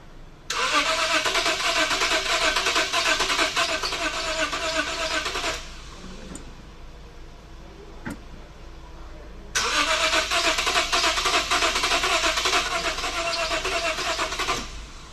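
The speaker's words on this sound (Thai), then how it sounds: "เรามาดูดีกว่าว่าจะสตาร์ทติดไหม" A Lexus IS250 cranks twice without catching, each long, steady whirring starter burst lasting about five seconds and separated by a few seconds of quiet, loud and close with no voices.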